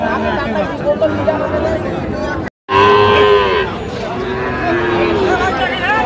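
Young bulls and heifer calves moo loudly several times over a busy cattle market crowd murmur, with one long drawn-out low near the middle after a brief silence.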